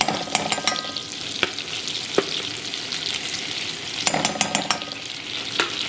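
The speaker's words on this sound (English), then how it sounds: "I'm going to whisk this for about 1 to 2 minutes, and I don't want it to get brown." Flour being whisked into melted butter in a pan: a steady frying hiss with scattered sharp clicks and scrapes of the whisk against the pan, no talking.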